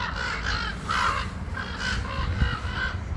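Crows or ravens cawing repeatedly in an urban Cleveland neighborhood, a series of harsh calls about every half second over a steady low rumble of background noise.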